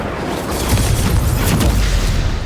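Fire spell cast in Hogwarts Legacy, a steady roaring whoosh of flame with low rumbling booms, loud and close throughout without pause.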